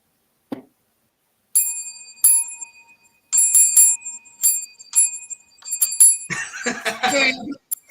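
Bright bell dings ring out in a series of short strikes, some in quick pairs, followed by a brief burst of laughter or chatter.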